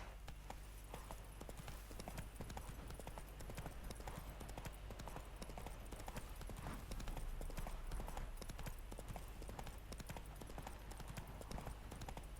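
Roach, a horse in the video game Witcher 3, gallops in a rapid, steady run of hoofbeats that continues throughout over a constant low background hum.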